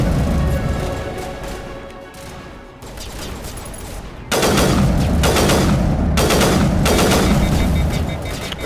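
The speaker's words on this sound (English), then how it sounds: "What are you guys shooting at?" Loud, sustained bursts of rapid gunfire from the video game Mass Effect Legendary Edition, with dense crackling volleys that grow heavier partway through, and no talking.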